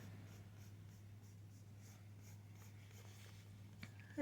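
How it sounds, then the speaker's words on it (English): A pencil drawing a curve on paper, a soft continuous scratchy scrape close up with faint strokes, quiet and alone against a low background hum. "I'm going to draw another curve over here, which will bisect this area in half"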